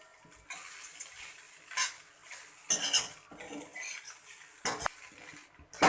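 A spoon clinks and scrapes through bataka poha in a pan in quiet, irregular strokes, with brief louder clatters against the metal and no talking.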